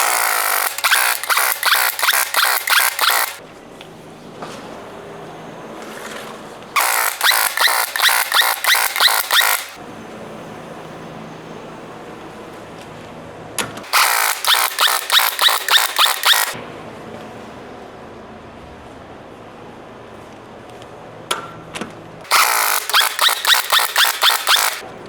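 Bursts of a power impact tool tightening wheel lug nuts during a brake job, four loud rattling runs of about three seconds each separated by quieter pauses with faint workshop noise.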